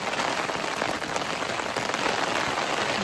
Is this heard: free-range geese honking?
no